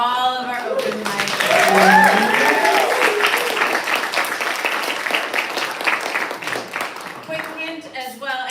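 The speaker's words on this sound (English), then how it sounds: "Quick round of applause for all of our open mic" Audience at an open mic poetry reading clapping for the poets, a warm, full round of applause that swells early and then slowly thins, with a voice speaking over the start and some whooping.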